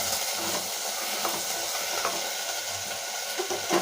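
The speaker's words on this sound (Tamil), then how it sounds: "இதை நல்லா பிரட்டி கொடுக்கலாங்க." Drumstick, onion and tomato are stir-fried in a pan for sambar, giving a steady, close sizzle with faint scraping and stirring clicks, and no voices.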